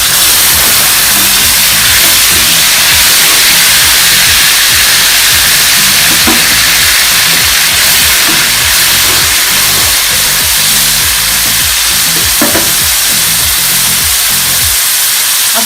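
Tomato paste goes into frying garlic-ginger paste for a chicken handi, setting off a loud, continuous close-up sizzle and hiss that holds steady with no pauses.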